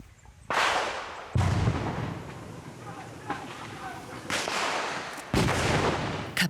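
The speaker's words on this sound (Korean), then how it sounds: "갑자기 들려온 폭음과 총소리에 시민군들이 뛰쳐나옵니다" Sharp blasts and gunfire crack out during a militia combat training drill in Myanmar, several loud bursts spaced a second or more apart, each followed by a rough decaying rumble against background noise.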